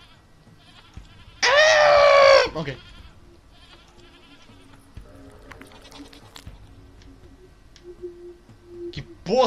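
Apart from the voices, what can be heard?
goat bleating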